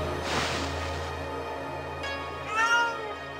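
A cat meows in the video game Okami, with two or three drawn-out cries over a steady game soundtrack, the last one the loudest and clearest.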